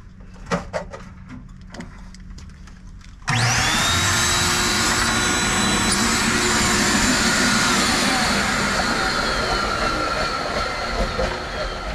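A pool blower switches on partway through, blowing out the plumbing lines while an inground pool is winterized, a loud steady whining roar replacing earlier quiet clicks and handling sounds.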